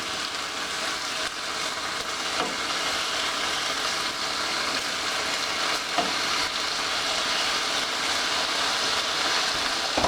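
An egg frying in a pan gives a steady, close sizzle with soft popping bubbles that runs unbroken and evenly loud, with no talk over it.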